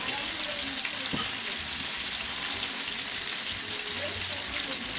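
Mustard chicken pieces cook in a pan, a steady close sizzle with light crackling and an occasional tap, holding at an even level without talk.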